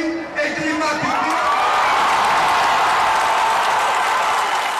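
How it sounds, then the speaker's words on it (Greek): Applause breaks out inside a courtroom at a Golden Dawn verdict, a steady wash of clapping and crowd noise that swells after a brief start and stays loud and continuous throughout. "Μέσα στην αίθουσα ξεσπούν χειροκροτήματα"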